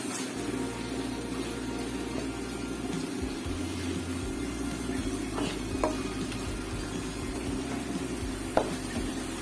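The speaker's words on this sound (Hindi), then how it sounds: "कढ़ाई के अंदर ही भून लेना है अच्छे से।" Aloo keema sizzles and fries steadily in a kadhai, a continuous close hiss with occasional stirring scrapes, no voices over it.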